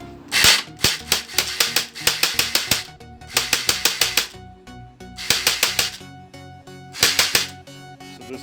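A realistic Desert Eagle toy gel blaster fires fully automatic in four rapid bursts of sharp, loud, close clicking shots, with short pauses between bursts.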